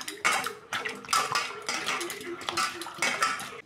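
Cut raw papaya pieces are washed in water in a metal bowl, sloshing in repeated bursts with clinks of dish and utensil in between.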